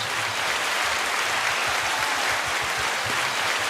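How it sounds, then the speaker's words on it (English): Steady, dense applause fills the space during a podcast intro, a continuous wash of many hands clapping at even loudness with no voices over it. "You hear the clap?"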